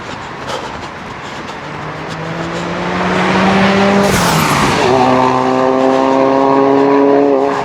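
A motor vehicle on a public road sweeps past close by, its engine tone rising then dropping sharply in pitch as it passes, followed by a second engine droning steadily nearby.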